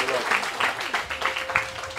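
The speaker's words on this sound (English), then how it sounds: "Give her a quick round of applause, huh?" An audience at a breathwork workshop in Miami claps in quick bursts, with a voice calling out over the applause.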